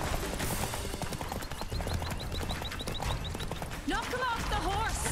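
A horse gallops in The Witcher 3, its hoofbeats beating a quick steady rhythm beneath game music and effects, with a voice heard toward the end.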